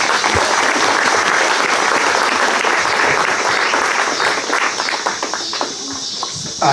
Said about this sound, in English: let's give another round of applause for everyone